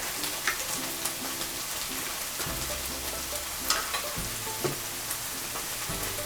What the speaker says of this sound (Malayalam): ഇതായിട്ട് ചെറുതായിട്ടൊന്ന് അതിൻ്റെ പച്ചമണം മാറണ വരെ നമുക്ക് ഇളക്കാം.